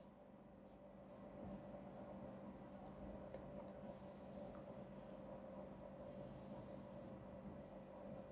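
A pen draws a free body diagram of a cantilever beam and spring on paper or a board, heard as faint, brief scratchy strokes in two short bursts over a steady low hum in an otherwise quiet room.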